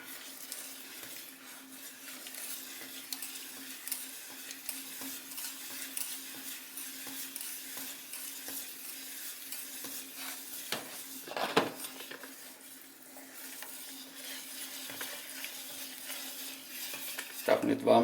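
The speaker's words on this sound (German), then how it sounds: "Jetzt mal wieder umrühren langsam." A spoon slowly stirs egg yolk into Japanese cheesecake batter in a bowl, giving soft, continuous scraping and swishing with occasional light clinks against the bowl, faint and close.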